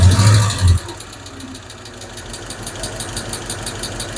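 A Hemi V8 idles steadily after a VVT solenoid elimination plug install, with a loud low burst at first settling into a rhythmic mechanical ticking and knock over the engine hum.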